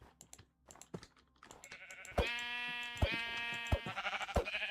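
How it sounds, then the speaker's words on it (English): Sheep in the Minecraft modpack GregTech New Horizons give several wavering bleats close up, mixed with quick clicking taps of a computer keyboard that run before and between the calls. "Can I kill the sheep?"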